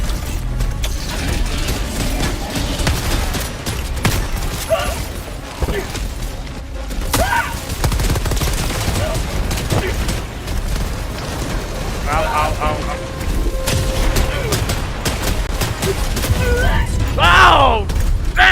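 Grenade blasts and gunfire in the video game Helldivers, a dense, loud, continuous barrage of booms and rumbling impacts with sharp bursts near the end, with a voice speaking over the battle.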